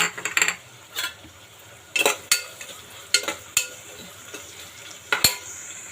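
Curry leaves and slit green chillies spluttering in hot oil with browning onions for tomato rice, heard as sharp crackling bursts and pops at irregular intervals over a low, steady sizzle, close and fairly loud with no talk.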